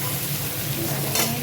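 Kochu loti (taro stolon) dusted with chili powder is stirred in a frying pan, a steady close sizzle with soft scraping through the short stretch and no talking.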